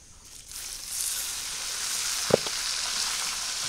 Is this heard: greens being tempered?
yes